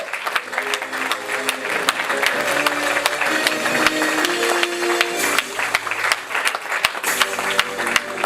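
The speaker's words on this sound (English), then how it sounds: "put your hands together and give him a bigger round of applause" A crowd at a national literary awards ceremony gives sustained applause, a loud, dense clapping wash that carries on the whole time, with faint voices and a few sharper claps standing out.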